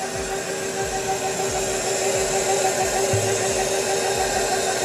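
A KitchenAid stand mixer whirs steadily at close range while mixing wet bath bomb ingredients in its bowl, a continuous motor drone with a faint rhythmic churning underneath and no talking.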